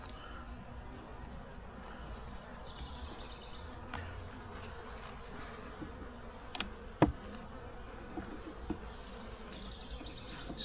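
Dense, steady buzzing of honey bees from a strong colony in a split hive, a constant low drone with a few brief louder knocks midway.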